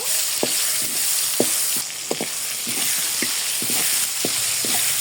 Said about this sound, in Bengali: টমেটোগুলো একটু ভাজা ভাজা করে নিব